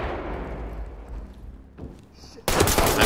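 Gunfire in the tactical shooter Ready Or Not, a decaying burst of shots followed by a quieter gap, then a loud, dense volley erupting abruptly at close range.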